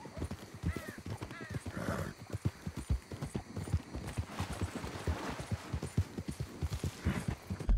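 Horse hooves clip-clop at a steady trotting rhythm in the video game Red Dead Redemption 2, close and clear, with a horse's neigh breaking in early on.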